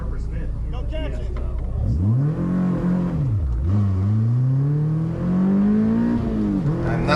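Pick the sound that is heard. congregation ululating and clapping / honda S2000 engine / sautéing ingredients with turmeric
honda S2000 engine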